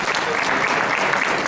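An audience at a psychic expo hypnosis talk breaks into applause, a thick, continuous wash of many hands clapping at full volume through the whole moment.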